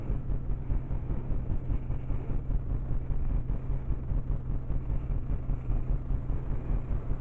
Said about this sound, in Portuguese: eu tenho um ventilador de teto aqui, eu vou ligar